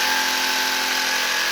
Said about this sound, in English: The Sawzall worked perfectly